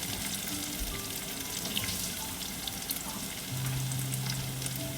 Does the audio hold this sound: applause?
no